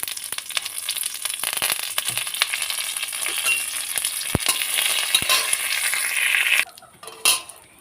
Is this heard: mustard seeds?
yes